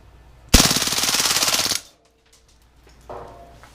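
An Umarex M712 CO2 blowback BB machine pistol fires one fast full-auto burst lasting just over a second, a loud, close, rattling string of shots that stops abruptly, followed by quiet and a faint later clatter.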